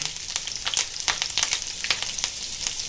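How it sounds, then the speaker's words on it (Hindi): Fish fries in hot oil with ginger, garlic and curry leaves, a loud, close, crackling sizzle with dense spitting pops throughout. "और ये देखो, अभी मच्छी फ्राई कर रहे।"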